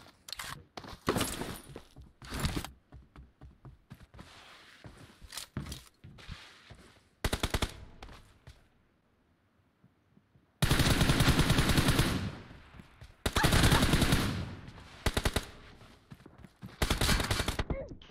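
Repeated bursts of automatic gunfire in the mobile game PUBG Mobile, some short and sharp, others long sustained volleys, close and loud with brief quiet gaps between them.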